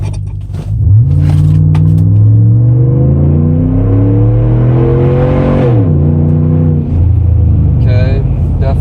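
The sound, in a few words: Ram 1500 pickup truck accelerating hard from a stop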